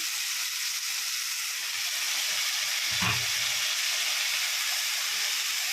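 Fresh mint and coriander leaves fry in oil with softened tomato in a pan, a steady even sizzle with one brief utensil knock midway.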